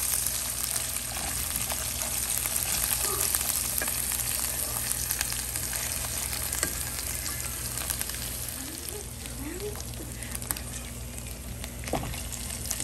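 Large pieces of chopped garlic fry in a pan until browning, for bitter gourd with egg, making a continuous low crackling sizzle with occasional faint stirring taps and no talk.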